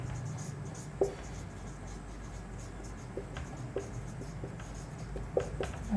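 Faint scratching and light taps of writing on a board during a lecture, with a few sharper knocks as the writing stroke lands, in a quiet room with no talking.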